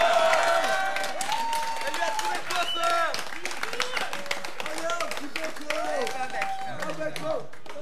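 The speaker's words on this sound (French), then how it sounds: "j'aimerais quand même qu'on applaudisse très fort Lindsay" An audience claps for Lindsay on a Swiss romand TV show, a scattered run of hand claps that sits under and between talking voices.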